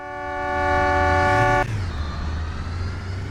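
A loud, sustained vehicle horn in a Roblox driving game blares with a rich harmonic tone for about a second and a half, then cuts off abruptly, leaving engine rumble beneath.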